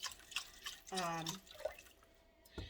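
Water trickles and splashes into a pot while cooking chicken and rice stroganoff, a faint pouring burst in the middle amid quiet kitchen noise, with someone talking.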